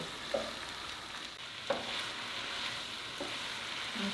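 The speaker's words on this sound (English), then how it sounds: "now we just have Rebecca continuing to stir and make sure that things are thickening up and combining" Green olive pasta sizzles softly in a pan as it is stirred, a steady frying hiss with a few small utensil knocks, close and fairly quiet, no voices.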